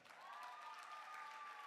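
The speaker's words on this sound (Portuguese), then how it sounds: "Vamos aplaudir minha família?" A soft round of church audience applause for the pastor's family, a brief, even patter of clapping heard at a distance with no talking over it.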